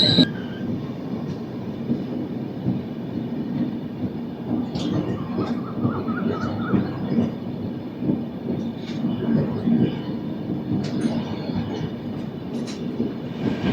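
The Secunderabad AC Superfast Express, train 12783 from Visakhapatnam to Secunderabad, rolls slowly, heard from inside as a steady low rumble with occasional wheel squeals and rhythmic clacks on the rails.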